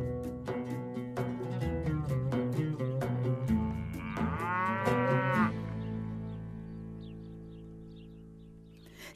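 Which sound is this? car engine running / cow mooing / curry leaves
cow mooing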